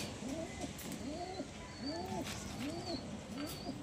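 A restless home-bred pigeon cooing in a quiet indoor spot, about five soft repeated coos at an even pace, close to the listener and fairly faint.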